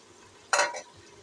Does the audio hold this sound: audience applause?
no